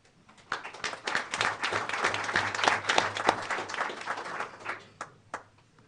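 A room full of people applauds at a school board meeting, a dense patter of many hands that swells, holds for several seconds, then thins out to a few last claps.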